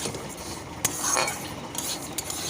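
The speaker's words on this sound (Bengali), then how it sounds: "মুগের ডালটা হাতে সময় নিয়ে একটু হালকা করে ভেজে নেবো" Moong dal dry-frying in a pan, stirred with a utensil, giving a soft continuous hiss and rustle with occasional clinks and scrapes against the metal, close and steady, without speech.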